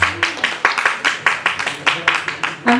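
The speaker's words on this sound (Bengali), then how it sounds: "বড় করে একটা হাততালি হোক না তাদের জন্য।" Audience applause at a Bangladesh Centre New Year celebration show, steady crowd clapping at a moderate distance that swells and lasts throughout.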